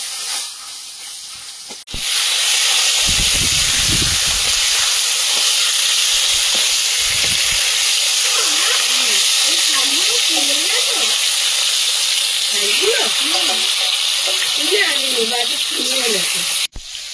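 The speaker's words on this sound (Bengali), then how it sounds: "তেলটা গরম হয়েছে, এবার মাছগুলো ভেজে নেব" Pieces of rohu fish drop into hot oil on a wood-fired stove, setting off a sudden loud hiss that holds steady and close, while people talk quietly beneath it in the later part.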